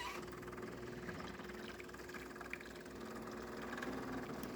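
A Jura Impressa A9 coffee machine rinses its mill system, producing a faint, steady mechanical hum and low pumping drone with no distinct events, heard alone throughout.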